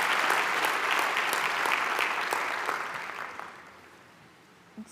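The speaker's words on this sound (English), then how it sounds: "So please join me in giving them a round of applause to say thank you." At a Nelson Mandela University graduation ceremony in Gqeberha, the assembled crowd applauds the administrative staff, a full roll of clapping that gradually thins and dies away into a quiet hall.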